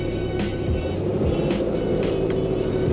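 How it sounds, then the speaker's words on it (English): A manual transmission car's engine hums steadily and close as it pulls away in first gear, a dense low drone with faint rhythmic ticking on top, and no one speaking. "put it in first. And as you're letting off the clutch, give it a little gas."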